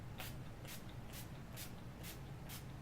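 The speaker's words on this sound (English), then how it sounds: "and I just spray that a few times" Six short hissing spray bursts of face setting spray come at an even pace, each a quick puff of mist from a nearby pump bottle.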